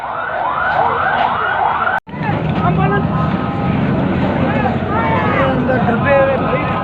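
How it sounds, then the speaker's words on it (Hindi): An ambulance siren wails loudly at a bomb blast site in Shershah, Karachi, its warbling tone rising and falling through crowd noise and shouting voices. "एम्बुलेंस वाले को बुलाओ"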